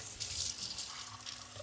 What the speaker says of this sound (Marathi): पाण्याचा आवाज येतो